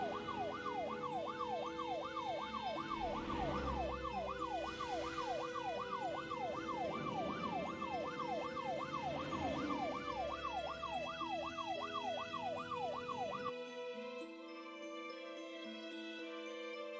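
An ambulance siren from the Troubleshooter game wails in a fast, regular up-and-down rising and falling pattern, loud and continuous over a steady background, then cuts off abruptly near the end, leaving a quieter tone.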